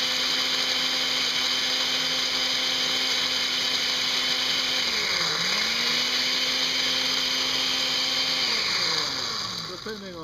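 A grinder whirs loudly as it pulses dried super-hot pepper pods into flakes; its motor pitch dips briefly midway, then revs back up before winding down at the end, with a voice faintly present.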